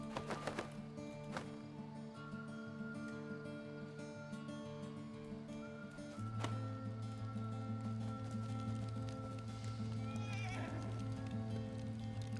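A horse in a video game whinnies and its hooves clip-clop steadily, against a sustained synthetic drone, with a faint voice in the background.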